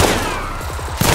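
Rapid gunfire from a video game shootout, a dense close volley of shots rattling for about a second before a sharper blast at the end.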